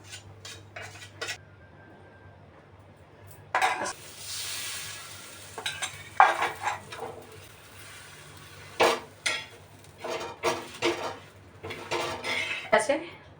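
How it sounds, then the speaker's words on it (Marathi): Pav bread warming on a tawa griddle with butter: metal spatula clanks and scrapes against the pan in irregular bursts, with a faint sizzle and a steady low hum underneath. "असे पाव गरम करून घेतले."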